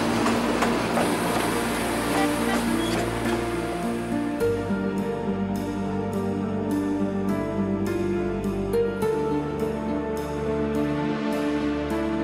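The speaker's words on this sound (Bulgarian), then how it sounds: "До тук влакчето се движеше нагоре вляво от реката и пътя" A narrow-gauge train in the Rhodope Mountains, Bulgaria, rolls steadily along with a rumbling low drone and rhythmic clicking of wheels over rail joints, loud and close throughout.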